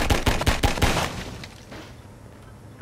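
A burst of several rapid gunshots from Half-Life 2 combat against Combine soldiers, loud and close at the start, then fading into a quieter reverberant tail with no talk.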